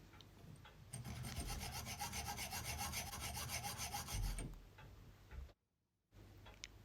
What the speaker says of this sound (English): This lug's a lot harder to reach with a hacksaw blade, so I have to take little cuts, but we get through in the end